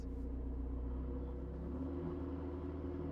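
Steady low rumbling idle of a McLaren 720S Spider engine with a tweaked, louder-than-stock exhaust, deep and continuous throughout with no talking.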